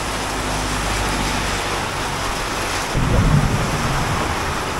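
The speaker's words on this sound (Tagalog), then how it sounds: "Kumukulog pa." Thunder rumbles through steady heavy rain during a mountain-road storm in the Cordillera, with a deeper, louder roll swelling near the end over the constant broadband downpour and possible passing traffic.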